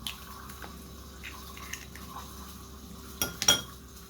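An egg is cracked and dropped into a mixing bowl while cheese pandesal dough is being made. A quiet kitchen stretch ends in a few sharp, close clinks against the bowl.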